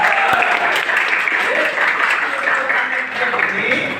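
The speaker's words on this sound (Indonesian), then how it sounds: "Ya, berikan tepuk tangan." A classroom group claps together in a brief burst, scattered hand claps forming a steady applause that rises quickly and holds before thinning out, fairly close and loud.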